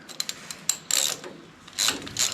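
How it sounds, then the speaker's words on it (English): Socket wrench ratcheting while loosening the injector retaining studs on a Marshall tractor, a few quick clicks followed by two longer bursts of fast ratchet clicking, close and alone. "I'm going to loosen the retaining studs, loosen off the pipe olive, and we'll pop the injector out"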